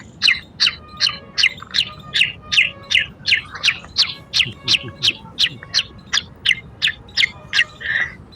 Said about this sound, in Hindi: सुबह का जो समय होता है इस तरह की पक्षियों की जो चहचहाट रहती है